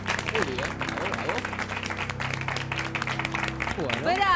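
A studio audience on a televised sewing competition, Corte y confección, breaks into applause, the clapping running steadily beneath people speaking over it.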